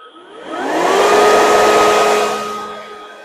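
An AL-KO solo 36 V LBV 3690 cordless battery leaf blower and vacuum switching on: a motor whine rises over half a second into a loud, steady airy roar, holds, then winds down, close by, with no speech.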